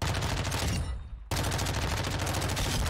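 Rapid automatic fire from a submachine gun in the video game Modern Warfare 2, loud continuous bursts with a brief pause near the middle before the firing resumes.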